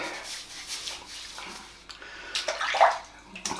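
Water splashed and rubbed onto a head before a double-edge razor shave, soft wet sloshing and rubbing close by, rising to a louder splash near the end, with no talk.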